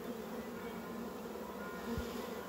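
Honeybees from a recovered swarm being settled into a hive hum in a steady, close, continuous drone with no voices over it.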